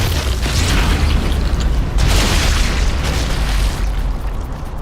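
An explosive telemine detonates in the Sniper Elite Resistance video game, a loud, sustained booming blast with rumbling low end and a second surge of debris-laden roar partway through.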